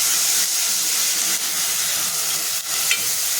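Ginger, garlic, green chili and coriander paste sizzling hard in hot oil with curry leaves, a loud close hiss and steam with a few stirring scrapes.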